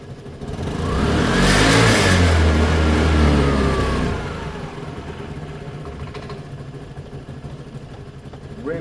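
A vehicle engine with cruise-control throttle revs up sharply and holds a loud, rising whine for a few seconds, then drops back to a steady, quieter running drone, heard nearby with no talking.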